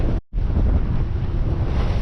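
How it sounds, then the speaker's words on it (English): Steady roaring wind and rushing sea water on a sailboat beating upwind on the Solent, loud and close with heavy wind buffeting on the microphone and a brief dropout near the start. "I just had a huge wave go right over the boat."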